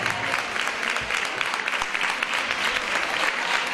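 An audience at a geology olympiad award ceremony applauds a contestant with steady, sustained clapping from a crowd, filling the room evenly from start to finish.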